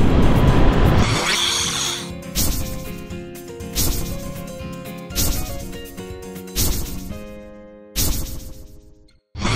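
A Kawasaki H2 SX SE supercharged motorcycle accelerates hard on an expressway. The loud, close engine climbs in pitch through several quick gear changes, with a brief lull between each pull.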